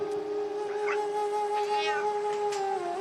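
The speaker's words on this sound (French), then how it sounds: "Rencontre avec des Bengales dans un élevage familial roman." Bengal cats at a family cattery give several drawn-out meows, clear and fairly close, over a steady background hum.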